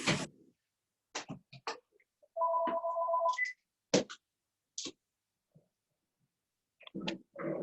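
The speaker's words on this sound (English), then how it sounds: "I just had to shut off the phone" A telephone gives a short electronic ring, a steady two-tone trill lasting about a second, amid scattered clicks and handling noises in a quiet room.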